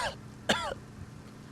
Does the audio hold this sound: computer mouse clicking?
no